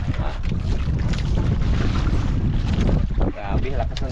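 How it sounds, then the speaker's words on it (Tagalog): Strong wind roars steadily and loudly across a small fishing boat out on the water, buffeting the microphone, with a voice faintly underneath. "Grabe, lakas na ng hangin."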